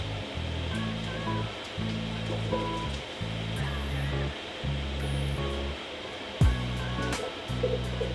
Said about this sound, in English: dump some kale and spinach in there, and we'll start blending. There's my Vitamix.